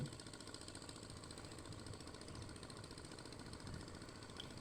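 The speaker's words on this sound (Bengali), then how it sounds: "দূরে একটা ট্রলার যাচ্ছে" A trawler carrying sand, its engine a steady low drone and knock far off across open paddy fields, faint and unbroken with no voices.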